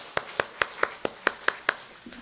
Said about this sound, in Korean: 하나님 경강 박수 올려드릴까요?